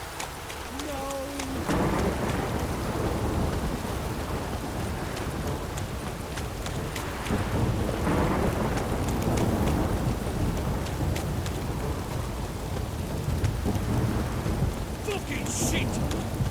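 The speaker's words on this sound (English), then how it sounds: "this downpour's a bastard, it is." Heavy rain and a thunderstorm in The Witcher 3: a steady downpour hiss with low rumbling thunder, horse hooves clip-clopping underneath, and brief voices over the storm.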